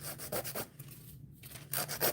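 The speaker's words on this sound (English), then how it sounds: "I'm gonna finish file all of them" A nail file rasps across acrylic nails in quick, close, scratchy back-and-forth strokes, with a brief pause partway through before the strokes resume.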